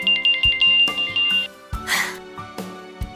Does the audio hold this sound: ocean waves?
no